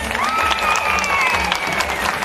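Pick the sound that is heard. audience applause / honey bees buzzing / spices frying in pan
audience applause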